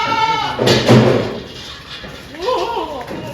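Barbari goats on a goat farm give a couple of loud nearby bleats, with a second wavering call later amid other livestock and farm movement.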